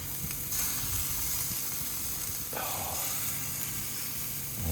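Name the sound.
steak bits sizzling on a hotplate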